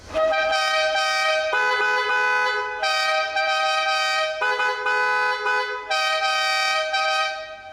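A Bentley Turbo R's two horns honk in alternation, long sustained blasts switching between pitches, loud and close with brief gaps between segments.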